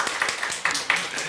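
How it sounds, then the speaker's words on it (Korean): A church congregation at a Wednesday service applauds to welcome an engaged couple, a short, steady burst of many hands clapping close by, with voices underneath. "우리가 박수로 환영하도록 하겠습니다"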